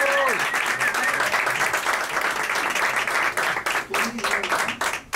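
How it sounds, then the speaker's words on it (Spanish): Sustained applause from an audience at a press conference for Julión Álvarez, a dense, steady roar of many hands that runs for several seconds, with a brief voice heard early on and a slight dip near the end. "es un aplauso para Julián"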